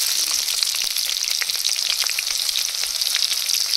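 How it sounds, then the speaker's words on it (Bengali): Whole cumin seeds and chopped onion hit hot oil, giving a bright, crackling sizzle with rapid popping spits throughout, steady and close. "তেলের মধ্যে দিয়ে দেবো গোটা জিরা ফোড়ন, পেঁয়াজ কুচি"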